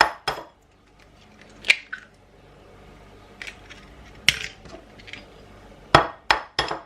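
Two eggs are cracked into a bowl holding vanilla extract, with sharp close taps and clinks of shell against the rim, spaced out with quiet gaps and a quick cluster of knocks at the end.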